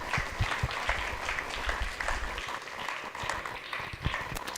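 Audience at a college summit applauds a panel on the blue economy, a moderately loud burst of clapping with individual claps standing out, fairly close.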